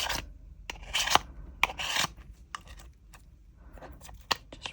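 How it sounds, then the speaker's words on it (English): A handheld deburring tool scrapes around the edges of a cured resin trinket tray in short, dry rasping strokes, close and fairly quiet, with irregular pauses between passes. "So I'm just going to go around with the deburring tool."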